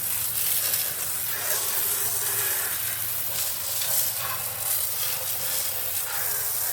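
Water from a garden hose sprays steadily over a car engine being rinsed of cleaner, a continuous broadband hiss that holds at a constant level throughout with no pauses or voices.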